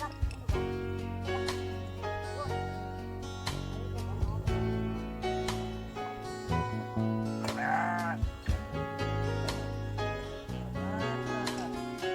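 Goats and sheep bleating in their pen, many overlapping loud bleats close by in a continuous chorus, with a voice talking among them.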